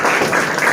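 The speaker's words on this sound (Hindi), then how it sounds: "जोरदार तालियां एकदम।" Loud applause from a crowd honoring a district topper at a physics coaching centre ceremony, a brief dense burst of clapping heard up close.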